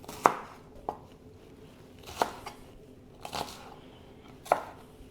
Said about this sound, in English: I'm kind of cutting the green onions in half, kind of separating the greener parts from the white parts.